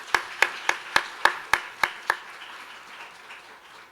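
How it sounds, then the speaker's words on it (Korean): Congregation at a church youth worship service clapping together: eight sharp, evenly spaced claps in a steady rhythm, then a faint room tail fading into quiet. "격려의 의미로 함께 박수하도록 하겠습니다."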